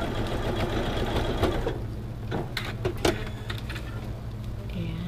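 Sewing machine stitching a quarter-inch seam on a star quilt block, a steady close whirring hum with a few small clicks and ticks midway.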